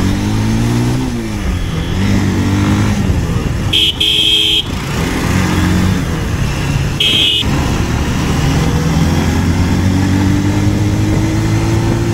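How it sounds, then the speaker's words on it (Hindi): A Bajaj Pulsar 220F motorcycle engine drones and revs while riding, with rising and falling pitch and two short horn toots partway through. "Pulsar T twenty F B S three model non A B S bike"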